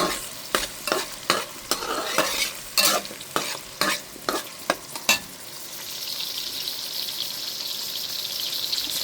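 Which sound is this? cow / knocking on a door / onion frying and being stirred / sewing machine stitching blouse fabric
onion frying and being stirred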